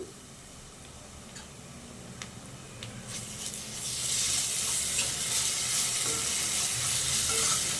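Ginger paste frying in a pan for a banda kaya recipe sizzles quietly at first, then swells into a louder, steady crackling fry with faint stirring ticks, and no one talks.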